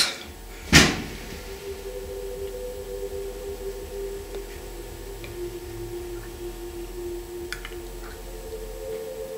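A wardrobe door in an old manor opens with a single sharp knock or creak near the start, then only a low steady hum and a few faint ticks in a quiet room.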